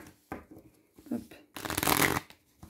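Oracle cards being shuffled by hand, a few soft taps followed by a brisk riffling burst about a second long, close and clear, with a voice briefly speaking.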